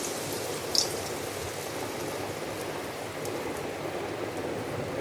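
Lentil and shrimp fritters, made with onion, chili, turmeric and rice flour, frying in hot oil on a stove, giving a steady dense crackling hiss with one brief sharp pop near the start.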